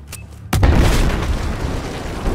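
An explosion in the Battlefield 4 video game, a sudden loud boom that breaks in after a brief quieter stretch and then rumbles on heavily, close and alone.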